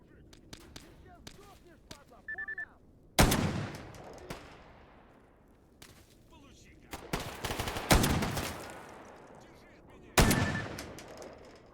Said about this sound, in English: Shotgun's not the most accurate for this, but it's like decent